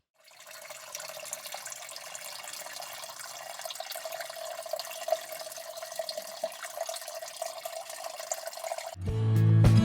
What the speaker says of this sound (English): we've drained the system by moving this guy right here, opening that valve